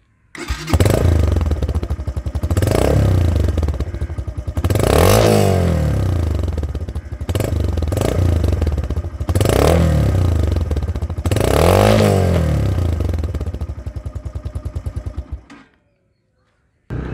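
A 2021 Yamaha YB125Z motorcycle idles loudly and close, then is revved in about five swelling throttle blips with a rattly clatter before the engine cuts off abruptly near the end.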